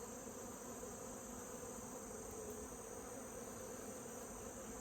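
A thick, unbroken hum of honey bees fills the air around an opened hive frame, close and constant, with no talking over it.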